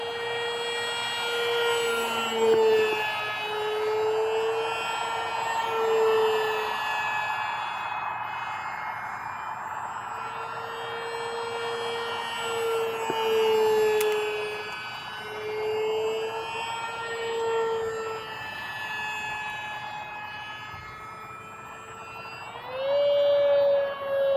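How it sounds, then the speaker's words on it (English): A continuous high-pitched electric motor whine from a Hobbyzone Aeroscout S2 RC airplane, steady and fairly loud, wavering slightly in pitch over a long stretch and rising sharply near the end at full throttle. "I have to really push the throttle and then have this super annoying sound"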